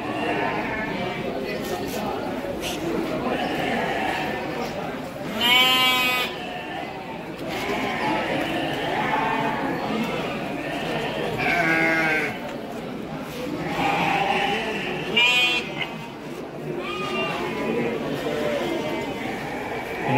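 Domba tangkas, Indonesian fighting sheep, bleat at the Andir livestock market. Several loud, wavering bleats repeat among constant crowd chatter, and someone talks over the animals the whole time.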